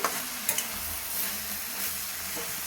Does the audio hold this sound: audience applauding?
no